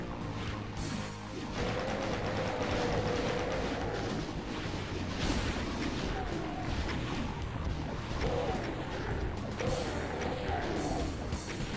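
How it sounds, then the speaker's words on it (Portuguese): A BFG weapon blast in the video game Doom II, played on the Citadel map, sits within a dense, continuous roar of explosions and game combat noise. "E aqui eu vou dar um tiro de BFG."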